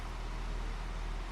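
A 2000 Porsche 911 Carrera 4 idles steadily, a low, even engine hum heard close and fairly quiet with no other sounds.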